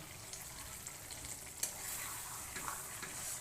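Spices sizzling in hot oil as they are sautéed for kosha in a pan, a steady close crackling fry with occasional sharp pops and scraping stir strokes, no voices.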